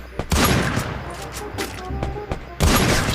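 Barrett sniper rifle fire in an online shooting video game, several loud booming shots and cracks spread over a few seconds, with heavy game effects filling the gaps.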